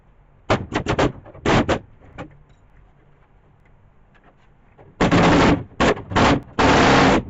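A tapered pneumatic chisel bit hammers into a 1966 Ford Mustang quarter panel during rust repair, loud rapid rattling bursts in short stuttering runs, a quiet gap, then longer sustained bursts up close.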